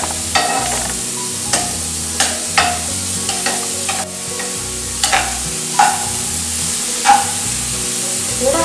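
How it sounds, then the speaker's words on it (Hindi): Peas and onion frying in butter for pav bhaji, with a steady close sizzle and repeated scraping stirs of a spoon in the pan at a regular rhythm. "दो चम्मच मटर डाल दिया है, इसमें प्याज डाला है, अच्छे से थोड़ा फ्राई करेंगे हम।"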